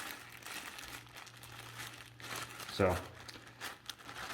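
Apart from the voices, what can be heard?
crinkling Ziploc bags of nuts, bolts and trim clips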